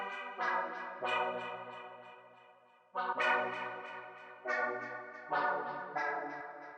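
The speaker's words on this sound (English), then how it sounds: "Next, I layered it with this like pluck synth type thing from Serum." A pluck synth patch from Serum plays bright plucked chords in a syncopated pattern, each note decaying quickly and layered over a low sustained tone, clean and alone without talking.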